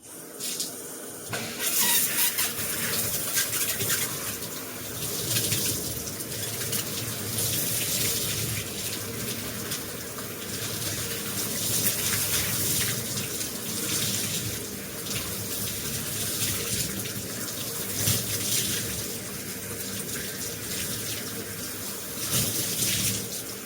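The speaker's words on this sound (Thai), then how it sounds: "เดี๋ยวมาล้างผมกันจ้าเพื่อนๆจ้า" Tap water running steadily while hair is rinsed at home, a loud continuous hissing splash that shifts slightly in tone as the flow hits the hair and sink.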